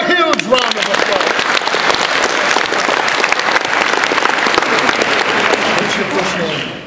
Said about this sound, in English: Give her a huge round of applause